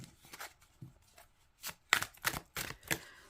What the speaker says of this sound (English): So let me give this deck a shuffle.